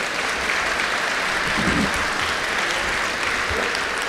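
An audience at a school grandparents' day event applauds first and second grade performers, a steady, dense wash of clapping throughout with a brief voice or cheer in the middle.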